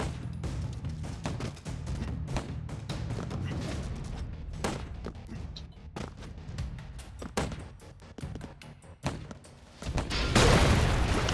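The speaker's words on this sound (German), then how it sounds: "Wieso verdammt nochmal explodiert das so schnell?" Barrels exploding in the video game Broforce, with repeated sharp booms and gunfire-like bursts over a busy game soundtrack, ending in a louder blast; someone talks over it.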